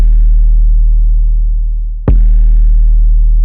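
An 808 bass run through the Doppelganger 23 soft clipper plugin, a loud, deep sustained bass tone that dips, then a sharp clipped transient as a new hit retriggers it, alone with no talking.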